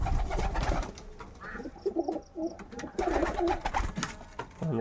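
Kaldom pigeons cooing in a loft, soft repeated low coos close by, mixed with faint rustling and a few higher chirps from other birds.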